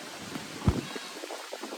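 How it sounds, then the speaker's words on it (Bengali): A steady, dense hiss of heavy rain fills the short stretch, broken by one dull thump. "এত বৃষ্টি হচ্ছে যে মাথার উপর থেকে ছাতাই উড়ে গেছে আমার"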